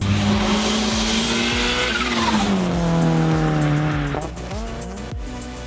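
Big-turbo Coyote-swapped Shelby GT500 driven hard: a loud, close engine roar rising and falling in pitch through gear changes, with a sustained tire squeal over it and a drop in revs near the end.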